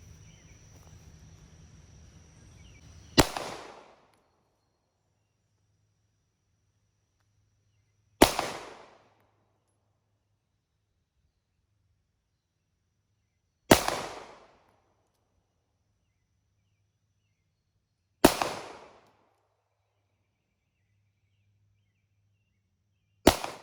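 Five sharp handgun shots are fired at a target, evenly spaced about five seconds apart, each a loud, close crack with a short decaying echo, separated by near silence.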